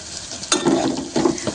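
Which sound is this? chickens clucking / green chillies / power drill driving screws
green chillies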